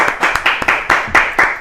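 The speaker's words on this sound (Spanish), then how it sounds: "Vamos a recibir con un fuerte aplauso" Audience at a history talk in Paraguay applauds to welcome the guest speaker, a former minister of culture and lecturer: fairly loud, close hand claps in a brisk, regular rhythm of about four per second for under two seconds.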